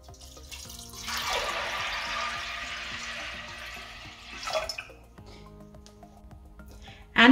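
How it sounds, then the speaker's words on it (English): A liter of water pours into dal in a pressure cooker, a hissing gush running for several seconds then tapering off, followed by a brief clatter. "Now we'll add a liter of water to it."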